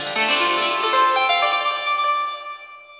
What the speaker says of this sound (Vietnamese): Tiếp theo Tèo sử dụng đó là tiếng đàn tranh.